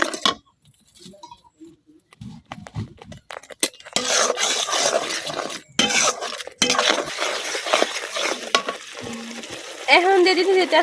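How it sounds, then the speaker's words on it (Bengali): Bay leaves and whole garam masala drop into hot oil in a pan and sizzle loudly and continuously, with a ladle stirring and clinking against the metal after a quieter start. "এখন দিয়ে দিতেছি তেজপাতা আর কিছু আস্ত গরম মশলা। এখন মশলাটা কিছুক্ষণ কষে নেবেন।"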